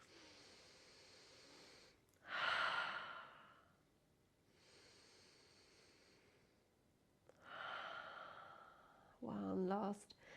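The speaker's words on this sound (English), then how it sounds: "We'll take 3 more breaths on this side." Slow, deep yoga breathing during a gentle kundalini practice, heard as long audible exhales and sighs that rise and fade about three times, with quiet pauses between, close and clear, with a breathy voiced release at the end.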